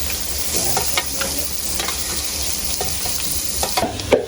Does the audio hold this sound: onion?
yes